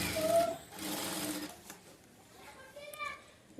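A sewing machine runs straight stitches through saree-cloth blouse fabric in short, whirring bursts, with someone talking over and between the runs.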